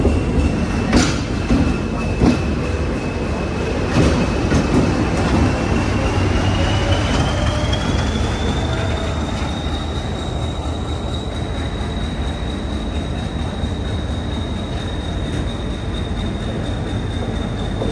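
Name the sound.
old locomotive passing at Deen Dayal Upadhyaya Junction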